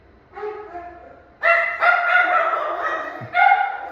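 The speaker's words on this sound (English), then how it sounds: "Forgive the dogs. Forgive the dogs. They bark." Dogs bark and yelp in a loud, close flurry, a few yips then a sustained run of overlapping barks, with no speech.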